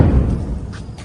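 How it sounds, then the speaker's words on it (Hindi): A loud, heavy thud from an explosion in Tel Aviv during a missile attack, a deep low boom that hits at once and then fades over about a second. "अब जोरदार धमाका हुआ,"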